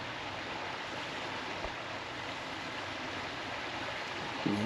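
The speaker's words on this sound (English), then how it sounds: "the river running pretty good right now" The Red River runs in a steady, full rush of flowing water after rain, a constant broadband wash heard from nearby with no talking.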